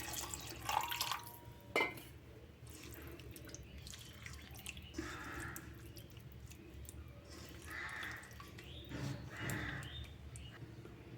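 A little water is added to a cooking pot of fish, a faint trickling and dripping sound against a low background of kitchen noise.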